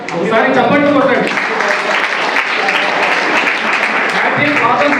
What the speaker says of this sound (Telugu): ఇవాళ ఒక్కసారి మీ భార్య గారికి చప్పట్లతో ఒకసారి చప్పట్లు కొట్టండి